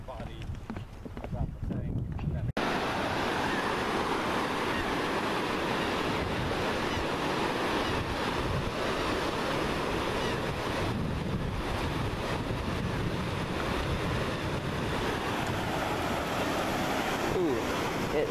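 Wind and ocean surf sweep across a beach in a steady, broadband roar. A rough, quieter start of about two seconds gives way to continuous buffeting that runs to the end, with no clear voices.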